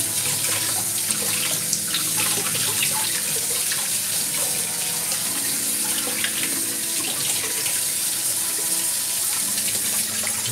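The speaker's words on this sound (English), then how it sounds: "Running water near your electronics is stressing." Water runs steadily from a kitchen tap into a sink in a compact home kitchen powered by solar panels, a continuous close hiss and splash with no talking.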